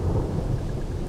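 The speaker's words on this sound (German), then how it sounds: "Natürlich regnet es jetzt wieder." Steady rain with a low, rumbling thunder underneath in the video game Smalland: Survive The Wilds, a constant dense wash of noise with no pauses and no voices.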